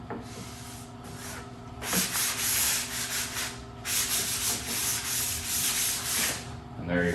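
Sandpaper rubs by hand over a coated wooden hanging side table, smoothing it between coats in steady back-and-forth strokes. The scratchy rasping comes close and fairly loud in bursts, with a brief pause near the middle and no talking.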